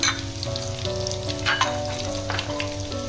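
Fried cauliflower tipped into a frying pan with papaya and frying vegetables for a fish shukto, crackling and sizzling steadily in hot oil, close up, with light stirring and a sharp burst of spatter partway through.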